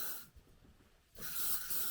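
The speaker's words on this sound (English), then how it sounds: "And then just spray." Hairspray misted over freshly curled hair, two bursts of broad hissing spray separated by a quiet gap of about a second, close and fairly loud with no talking.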